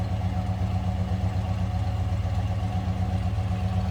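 The engine of a 1968 Chevrolet Chevelle two-door hardtop idles with a stock, unobtrusive exhaust, a steady low rumble held evenly throughout with no voices.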